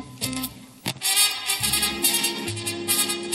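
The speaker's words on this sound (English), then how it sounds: "That's the sound from the factory." An unmodified Zenith Royal 2000 radio plays with its factory sound: a brief stretch of music with shifting tones, heard alone.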